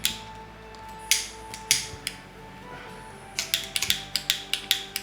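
A pipe lighter being struck over and over, sharp metallic clicks of the wheel and flint at irregular spacing, then a quicker run of near, dry clicks, with no voices.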